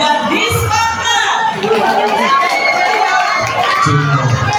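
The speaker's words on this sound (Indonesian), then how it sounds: "Tepuk tangan buat Dispantan." A crowd at an outdoor school language-month event in Surakarta cheers and shouts, with children's voices and chatter mixed throughout, loud and continuous.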